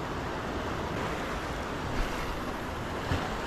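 Sea waves wash along the Konkan coast near a fishing spot as a continuous broad surf rumble with light wind buffeting the microphone. Two small surges stand out, and no one speaks.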